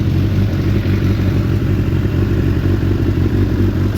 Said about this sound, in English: Actually appears to be running on all cylinders now too.